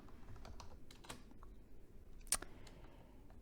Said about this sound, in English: We call it up by typing.